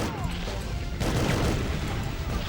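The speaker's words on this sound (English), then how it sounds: "One thing I love in this game is the explosions on the belt." Explosions on a conveyor belt in an N64 video game, a loud crashing burst about a second in that rumbles on densely, after a short stretch of lighter mechanical noise.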